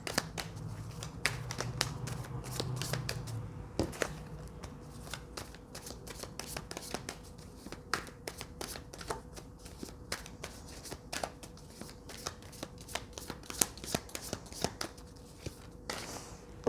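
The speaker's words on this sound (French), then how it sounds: "Je prends les cartes tarot" Tarot cards shuffled by hand give rapid, crisp flicks and riffles, with a few louder snaps and slaps of the deck, close and quiet throughout.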